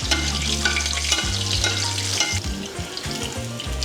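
Skin-on salmon fillet sizzles steadily in a hot pan while being basted on its thick side, a continuous close frying hiss with scraping and spoon clatter over low music-like tones.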